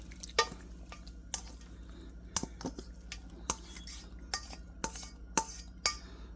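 Pasta being added to and tossed in a pan of creamy chicken alfredo sauce with broccoli, with a dozen or so sharp, quiet utensil clinks and scrapes against the pan over a low, steady background hum.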